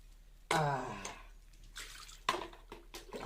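Water splashes and pours over fish being washed in a home kitchen, in a few short, irregular bursts heard up close.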